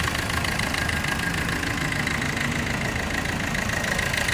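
A 2016 Maruti Ertiga ZDi diesel car engine idles steadily at close range, a loud, constant rumble with a slight knocking texture and no voices.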